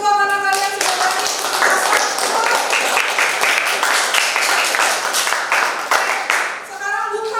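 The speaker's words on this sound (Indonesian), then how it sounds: "Tepuk tangan buat kalian semua karena kalian sudah pasti" Students in a classroom clap for one another during a lesson, a lively, crisp burst of many hands lasting several seconds, with a voice speaking before and again just after it.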